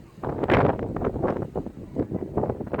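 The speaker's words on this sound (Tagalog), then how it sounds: "Grabe, sobrang lakas ng hangin, mga idol." Strong wind during a low-pressure weather system buffets the microphone in loud, rumbling gusts that swell and ease for a few seconds, with no one speaking.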